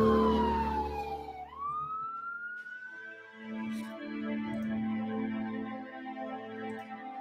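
An ambulance siren on Boylston Street, Boston, after the Marathon bombing explosions sweeps down in pitch, then climbs back into a rising wail, fairly close, with traffic and street noise underneath.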